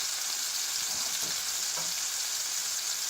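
Burger patties sizzle in a frying pan, a steady bright hiss that holds evenly throughout, close and alone with no voices.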